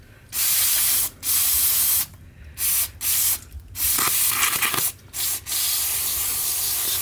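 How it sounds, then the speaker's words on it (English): Carb and choke cleaner sprays onto a Yamaha Virago motorcycle carburetor in several sharp aerosol bursts of varying length, close and loud, separated by brief pauses, with no talking. "Typically I use Carb and choke cleaner."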